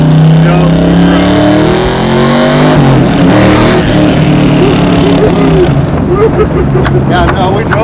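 Loud, close engine of a 750-horsepower 1969 Chevy Camaro, a steady rumbling drone with pitch rising and falling as it pulls, while voices talk over it.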